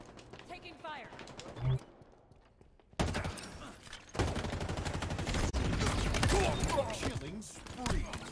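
Bursts of rapid automatic gunfire from the Halo video game, a short lull then sustained fusillade-like firing, loud and dense, with game voice callouts underneath.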